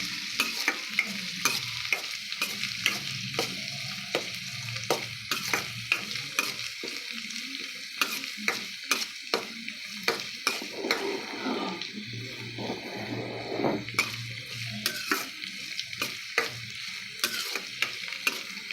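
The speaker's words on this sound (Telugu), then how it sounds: "అల్లం వెల్లుల్లి పేస్ట్ వేసుకొని బాగా కలుపుకోవాలి" Ginger garlic paste sizzles and fries in a pan while a utensil stirs it with repeated scraping clicks, a steady close sizzle underneath, with no voices.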